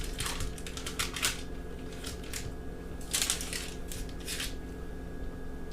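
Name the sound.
knife cutting homemade buttercream fudge into chunks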